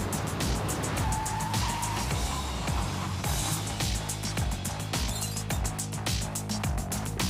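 A Volvo XC40 Recharge stops hard, its tires squealing against the pavement under a loud, steady roar of wind and road noise, close up and with no one speaking.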